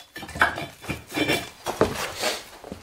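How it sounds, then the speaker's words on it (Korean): Sealed entrance of a salt-roasting kiln being carefully broken open: a close series of irregular, sharp knocks, clinks and scraping cracks spaced across a few seconds, with no voices. "막아놓은 출입구를 조심조심 깨는데요"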